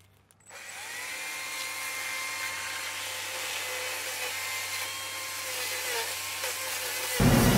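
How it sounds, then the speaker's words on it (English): A battery chainsaw whines steadily and cuts through wood, a high buzzing drone that holds for several seconds before ending abruptly. "I'm using a battery-powered steel chainsaw"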